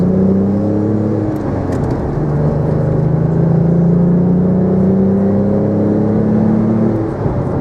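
A 2002 Renault Clio V6 engine drones loudly and steadily, its pitch climbing as it accelerates, dropping briefly at a gear change, then rising again.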